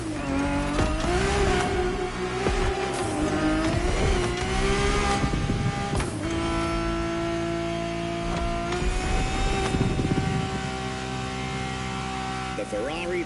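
A vintage Ferrari 365 GTB4 from the 1970s races in a driving video game, its engine droning and shifting pitch continuously with revs rising and falling, loud and steady throughout with occasional tire squeal.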